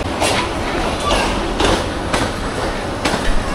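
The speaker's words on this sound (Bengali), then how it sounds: "অবশেষে গাইবান্ধা স্টেশনে ইন লালমনি এক্সপ্রেস" Lalmoni Express train at Gaibandha station, a steady rumble of rail cars with periodic clanks and thumps rolling through, fairly close, with voices around.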